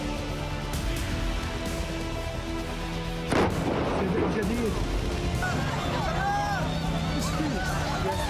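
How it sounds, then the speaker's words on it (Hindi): Explosions and artillery fire around Rafah and Khan Younis in Gaza: a rumbling backdrop breaks into a sharp, heavy blast a few seconds in, followed by continued booming and a noisy clatter of debris and distant voices. "राफा से लेकर खान यूनुस तक जबरदस्त धमाके।"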